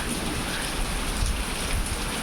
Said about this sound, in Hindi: ओले शुरू में गिरे, अब तो केवल बारिश ही चल रही है।